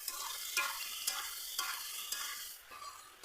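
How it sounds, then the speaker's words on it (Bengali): Spice paste in mustard oil is stirred in a pan, with a steady sizzle and regular scraping strokes about every half second, close and fairly quiet. "এতে একটু সর্ষের তেল ভালো করে দিয়ে এবার ভালো করে নেড়ে নেব।"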